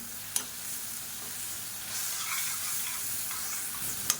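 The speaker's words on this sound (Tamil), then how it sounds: "இது எல்லாத்தையும் நல்லா வதக்கி வச்சுக்கலாம்" Tomatoes sautéing with chilli powder and mutton masala for idli kuzhambu, a steady close sizzle and frying crackle with a couple of sharp spoon clinks against the pan.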